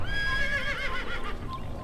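A horse in Assassin's Creed gives one clear, close whinny with a wavering pitch that trails off over a couple of seconds, heard alone without talk.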